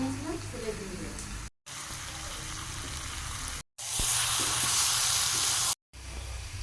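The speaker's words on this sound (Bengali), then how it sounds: "এখন মাংসটা কষানো হয়ে গিয়েছে" Goat mutton sautéing with spices in a pan in a village kitchen, a steady broadband sizzle that swells louder midway, broken by brief silent gaps, with a faint voice now and then.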